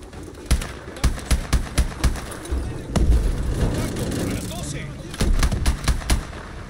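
Gunfire and explosions from the video game Call of Duty: Advanced Warfare, with sharp close shots in an irregular rhythm, then a rumbling blast with a sustained roar, and a further burst of shots.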